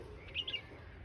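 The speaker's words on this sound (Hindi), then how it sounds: "इधर चिड़िया बैठी हुई है," Small birds chirp in open village fields, a few quick high tweets close together against a quiet, faint outdoor background.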